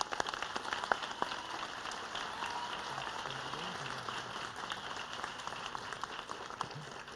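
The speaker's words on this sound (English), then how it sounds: "Let's give her a round of applause." Applause fills the room at an academic award ceremony, a dense, fairly distant patter of many hands clapping steadily throughout with a faint murmur beneath.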